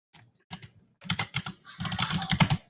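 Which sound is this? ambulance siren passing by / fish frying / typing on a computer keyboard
typing on a computer keyboard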